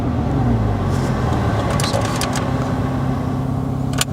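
A Porsche Boxster 987's flat-six engine starts up and settles into a steady idle with a low rumble. A few short clicks and knocks are heard nearby.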